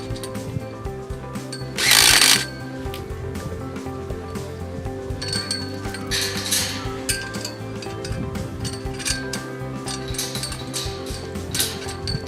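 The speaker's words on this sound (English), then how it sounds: "fastening it up with our socket" A socket wrench fastens a gate latch onto a fence post, giving quiet metallic clicks and ratcheting with one sharp burst of noise near the start, set against a low steady outdoor hum.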